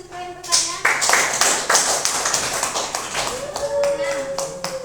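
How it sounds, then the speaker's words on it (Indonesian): Class of sixth-grade pupils clapping for a student who asked a question, a steady burst of close hand claps lasting several seconds with a teacher's voice over the start and end. "Boleh tepuk tangan dulu untuk Zukro yang bertanya"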